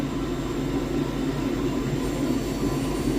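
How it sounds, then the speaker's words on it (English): TransPennine Express unit 397012 rolls through Edinburgh Haymarket station with a steady, loud, close rumble of wheels and traction that holds evenly throughout, with no voices. "Passing through now, we have a Transpennine Express."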